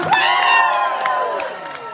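Concert crowd on Koh Lipe cheering and applauding for the band, bright whoops and shouts rising over a short burst of clapping, close and lively.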